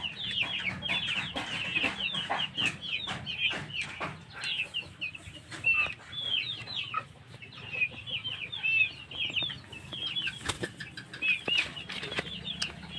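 Heritage chickens in a farm coop give repeated clucks and soft calls with wing flaps, moderately close and steady over low background noise, no talk.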